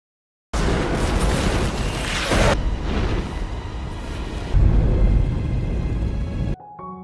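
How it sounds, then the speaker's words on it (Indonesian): A massive bomb explosion in a war film erupts as a long, loud roaring blast with rumbling debris. A second heavy surge hits near the end before it cuts off abruptly. "pilot menjatuhkan bom ke posisi tersebut. Hingga akhirnya terjadilah ledakan super dahsyat"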